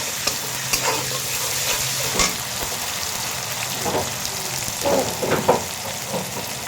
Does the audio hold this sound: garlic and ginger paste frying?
yes